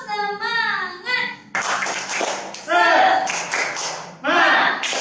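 A group performs the 'tepuk semangat' clapping chant during a live online children's church session, with chanted voices and sharp bursts of hand claps in a stop-start rhythm that grows louder in spurts.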